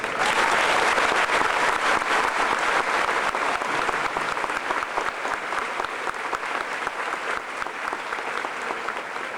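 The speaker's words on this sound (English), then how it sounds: "I feel the entire class is also due a wholesome round of applause" A crowd at an eighth grade graduation ceremony gives the graduating class a dense, sustained round of applause, loud and steady throughout before tapering slightly.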